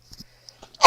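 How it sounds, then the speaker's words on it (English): A single hard human sneeze bursts out loudly near the end, preceded by a few quiet breaths and small mouth sounds in an otherwise hushed room. "I'm going to sneeze"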